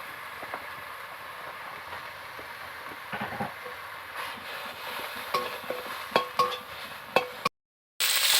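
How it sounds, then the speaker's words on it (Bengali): Ginger, green chili and onion paste frying in a pan, a soft steady sizzle with occasional stirring scrapes and clinks, then a brief dropout. "আমি আদা, কাঁচা লঙ্কা ও পেঁয়াজটাকে খুব ভালো করে ভেজে নিয়েছি।"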